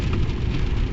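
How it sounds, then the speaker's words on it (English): Steady, dense rain from a storm drums on a moving car, loud and unbroken throughout, with no voices over it. "I'm driving through a little bit of a rain storm here."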